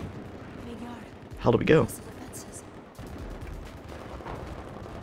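Distant gunfire and rumbling blasts from a Battlefield 4 match, a steady low roar with a louder burst near the middle, heard beneath players talking to each other.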